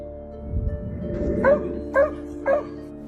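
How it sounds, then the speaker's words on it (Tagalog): A dog barking up at a tree at night gives three short yips or barks about half a second apart, close by, over a steady low hum. "tahol ng tahol ang aso sa taas ng puno kahit wala namang naroon"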